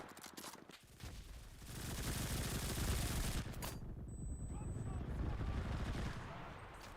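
Rapid, sustained video-game gunfire rattles on for several seconds as a dense continuous volley, loud and close, with a brief quieter lead-in.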